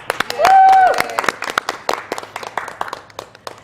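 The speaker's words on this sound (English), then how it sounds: "give yourselves a big round of applause" Scattered clapping from a small crowd at a fundraiser event, irregular claps of moderate loudness mixed with a brief whistle-like tone and background voices.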